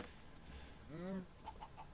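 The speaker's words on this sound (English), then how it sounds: "Let's go ahead and get some of these chickens down." Chickens in the video game Minecraft give a few quiet clucks, one longer warbling call followed by short soft chirps, faint and close together.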